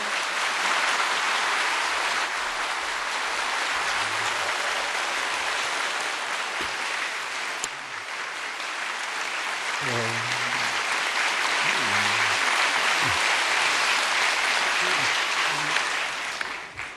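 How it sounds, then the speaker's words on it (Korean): Sustained applause from a church congregation welcoming a visiting pastor at a special dawn prayer service, a steady dense wash of clapping that fills the room from start to finish, with a few faint voices under it. "우리 나오실 때 큰 박수로."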